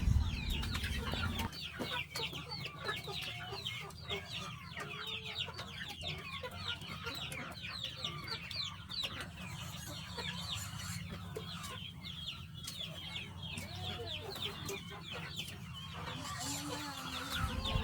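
A flock of chickens clucking steadily, with many overlapping calls throughout and a low rumble underneath, no one talking.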